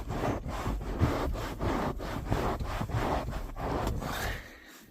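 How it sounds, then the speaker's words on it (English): A white towel is rubbed back and forth over a dirty part of a 1979 Dodge Power Wagon, giving close, rhythmic scrubbing strokes at an even pace for several seconds. "We'll take this white towel, put it right here. And I'm just gonna scrub."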